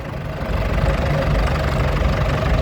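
A 1956 International B250 vintage tractor pulling a McCormick B12 plough in a steam rally parade, its diesel engine knocking and chugging steadily at close range, loud and continuous with no talk.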